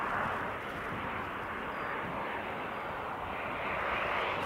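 A fixed-wing airplane passing overhead on a very windy day at an outdoor viewing mound, heard as a steady broad engine roar, moderately loud and continuous, with wind noise mixed in and no talking.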